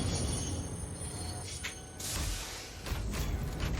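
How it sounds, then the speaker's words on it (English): Train rolling along rails in the Satisfactory factory-building game, a loud, continuous rumble with metallic squealing and clattering surges, no voices. "Train's coming, train's coming."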